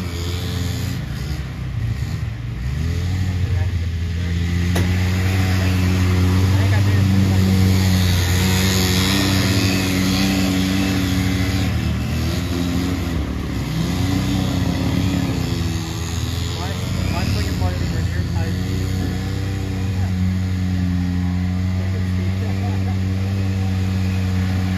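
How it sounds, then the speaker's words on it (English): Off-road vehicles churning through deep woods mud on a group ride, engines droning and revving steadily and loudly throughout, with voices heard over the motor noise. "this kind of deep woods mud riding"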